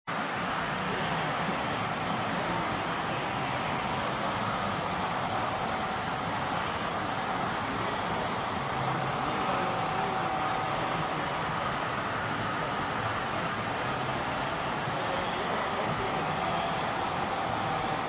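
A large-scale model Norfolk Southern train of 85 cars with a PRR caboose rolls past steadily at a train convention, a continuous rumbling clatter of wheels on track throughout with no pauses.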